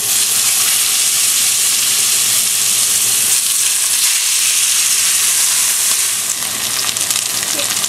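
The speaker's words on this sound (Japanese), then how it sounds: "で、お肉の側面を全部こうやって焼き色をつけていってください" A piece of beef for pot roast sears in an oiled cast iron pot, giving a loud, steady, close sizzle that hisses without pause throughout.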